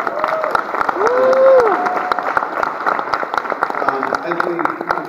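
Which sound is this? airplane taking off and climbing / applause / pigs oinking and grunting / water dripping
applause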